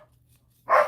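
A single dog bark rings out near and fairly loud after a quiet pause, one short sharp yip standing alone.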